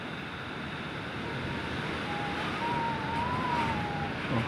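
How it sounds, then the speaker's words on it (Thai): Strong storm wind with heavy rain battering a bamboo shed, a steady broadband roar that holds close and fairly loud throughout, with no voices. "ข้างนอกลมแรงมากเลยครับทั้งฝนทั้งลมนะครับแรงมาก"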